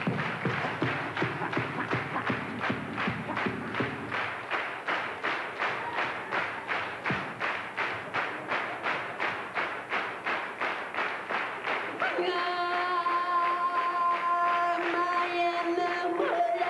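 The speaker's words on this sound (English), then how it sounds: "Come on, clap your hands" A comedy stand-up audience claps along to a song in a steady rhythmic beat of many hands, loud and continuous, with singing and music joining near the end.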